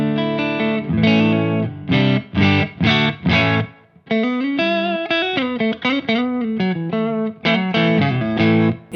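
Clean electric guitar through a Synergy Friedman BE/BB amp module with delay and reverb, playing strummed chords and melodic phrases whose notes ring out and trail into echoing tails, loud and close with no talking.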